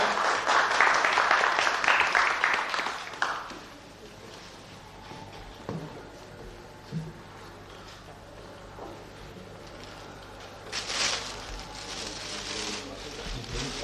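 A burst of applause at a karting season closing ceremony, several seconds of clapping from a small gathering that fades out, followed by quiet room sounds with scattered knocks and a brief second swell near the end.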